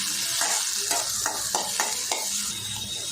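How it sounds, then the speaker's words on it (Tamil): Small shallots and country tomatoes sauté on a low flame in a cooking vessel, giving a steady frying sizzle. A spoon stirs and scrapes at a regular rhythm throughout, close and clear, with no voices. "ரெண்டு நாட்டு தக்காளி பாத்திரம் சேர்த்துக்கலாம் சேர்த்துட்டு இதையும் வதக்கி விட்டுருவோம்"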